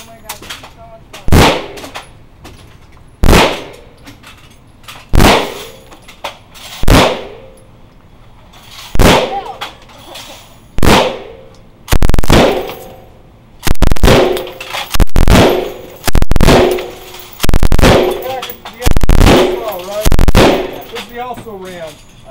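An M249 squad automatic weapon fires at an indoor range in Las Vegas in about a dozen loud, short bursts with brief pauses between them. The shots are very close and sharp, each burst ringing with echo.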